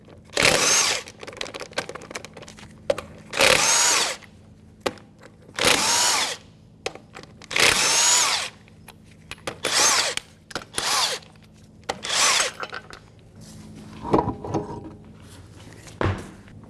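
A power tool zips off 22mm lug nuts from a Jeep Grand Cherokee wheel in repeated loud bursts of a second or so each, separated by short pauses, close up.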